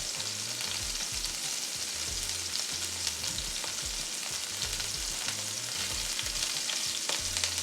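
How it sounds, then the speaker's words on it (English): Beef stew meat sears in a hot pan, giving a steady, loud, close sizzle that runs the whole time, with a rhythmic low thumping underneath. "once I get all my meat seared off"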